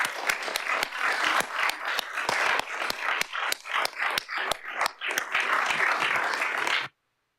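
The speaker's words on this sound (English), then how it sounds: "So round of applause for everyone here." An indoor audience at a climate action network event claps for several seconds, a dense run of sharp individual claps with no cheering, ending abruptly in silence.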